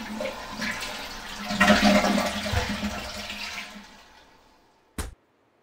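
A toilet flushes in a custodial setting, a loud rushing swirl of water that peaks early, tapers off over several seconds, then ends with a short sharp knock.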